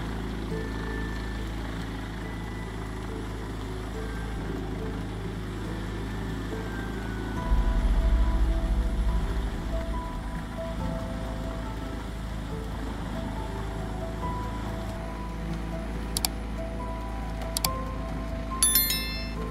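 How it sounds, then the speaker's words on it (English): A large industrial wood chipper and shredder from 2020, powered by a 675 horsepower engine, holds a steady low mechanical drone throughout. A few brief sharper knocks come near the end. "the machine is equipped with a 675 horsepower engine, allowing it to handle large volumes of material quickly."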